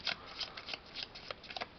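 A deck of game cards for a fantasy adventure board game, including its expansion cards, is shuffled close up in a quiet room, giving quick riffling bursts that repeat about every half second.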